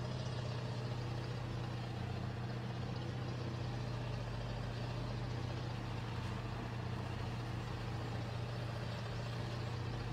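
A heavy truck engine in the off-road driving game Spin Tires drones at a steady, loud idle-like rumble while the truck reverses, with no breaks or talk over it.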